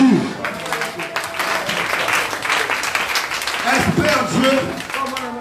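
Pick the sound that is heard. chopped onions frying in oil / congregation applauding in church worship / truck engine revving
congregation applauding in church worship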